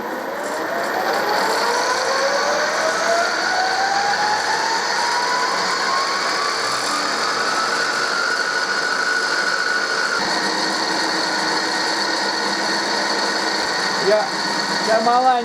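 A 16U04P metal lathe fitted with a frequency drive runs steadily and loudly, its motor whine climbing in pitch as it spins up, then holding an even mechanical drone with a few small clicks near the end.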